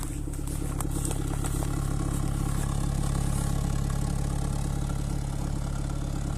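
A VAZ 2108/2109 car with a 1.3 engine and Solex carburetor idling steadily, a close, even mechanical hum with light clatter throughout and no voices.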